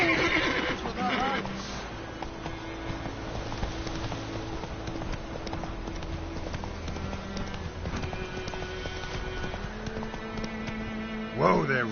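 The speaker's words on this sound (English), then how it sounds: "Whoa there, Roach" A horse in The Witcher 3 video game whinnies and gallops, with steady hoofbeats under game music and a voice speaking over it, and a sharp neigh rising at the end.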